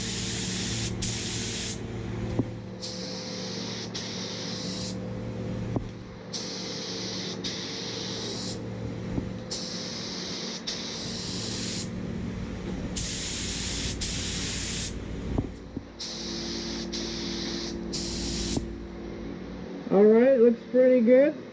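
A Harbor Freight HVLP spray gun sprays Rustoleum paint in about six even bursts of airy hiss, each a couple of seconds long with short pauses between, over a low hum that ends in a brief clatter.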